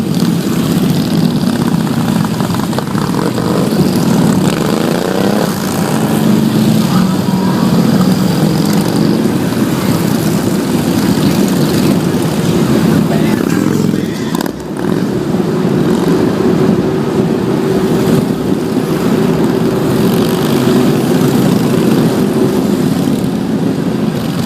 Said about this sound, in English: I can't hear anything except Harley.